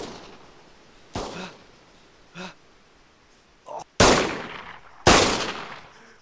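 Gunfire in Arma 3 Altis Life: a few scattered shots, then two loud, sharp cracks a second apart, each trailing a short echo, with quiet game ambience between.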